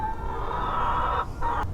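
Chickens on a homestead cluck and cackle loudly and close by in a short burst, with a brief pause before the calls resume.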